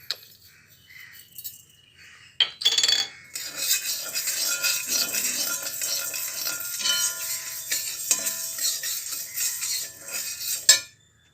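Roasted gram, black pepper and cumin dry roasting in a pan for spicy lentil powder: a steady, close rasping and scraping of spatula and dry seeds against the metal that runs continuously after a few brief knocks, with no talk.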